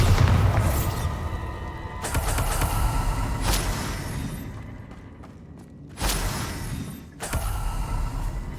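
A Bombarda spell in Hogwarts Legacy sets off booming explosions and shattering crashes, several loud bursts separated by brief quieter lulls.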